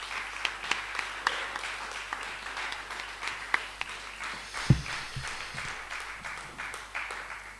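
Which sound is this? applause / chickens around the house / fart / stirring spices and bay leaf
applause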